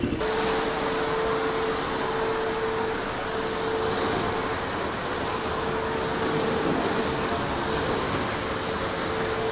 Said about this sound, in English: We're super excited for the MX Fuel backpack blower here.